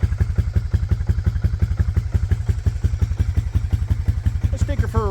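An ATV used for plowing snow idles close by with a loud, steady, rapid thumping engine beat that runs throughout.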